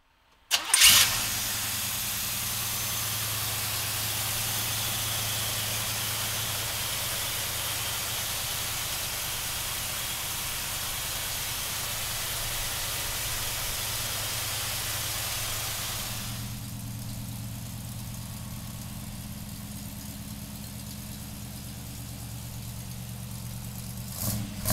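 A 1971 Chevrolet Blazer engine cranks and catches, then settles into a steady, fairly loud idle with a hissy rush that quiets partway through to a lower, smoother running note.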